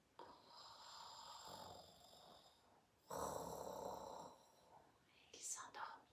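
A voice imitates the snoring of a sleeping tree in a children's bedtime story, making two drawn-out, breathy snores close up, each followed by a quiet pause and a short whispery exhale.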